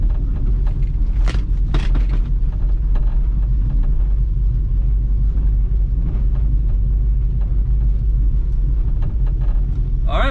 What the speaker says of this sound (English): that's the first drive in the Mustang